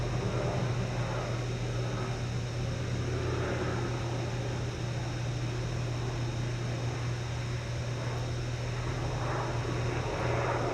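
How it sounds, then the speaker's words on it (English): A helicopter flies high overhead at sunset in windy Arizona, a steady distant drone with a low hum that holds evenly throughout, blended with broadband wind rush and no voices. "Helicopter in the sky."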